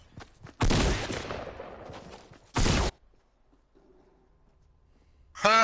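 Two loud rattling bursts of gunfire from a PS4 shooter game, the first longer with a decaying tail, then a short sharp volley, followed by near silence and the start of another blast.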